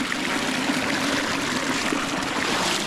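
Spring water flows and splashes continuously at close range, a steady rushing stream with no talk.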